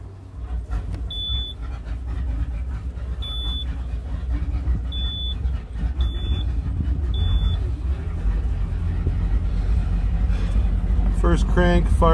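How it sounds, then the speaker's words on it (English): A 2004 Tige 22V boat engine idles steadily after a cold start, giving a deep, continuous rumble while a series of short electronic beeps sounds repeatedly over it. "First crank fires up, runs great."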